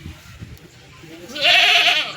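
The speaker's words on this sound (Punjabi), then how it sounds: "ਆਹ ਮੇਮਨੇ ਬੱਕਰੀ" Goats and lambs at the Surewala goat market, held on Sundays, give one loud, drawn-out bleat near the end, rising over a low murmur of market crowd noise.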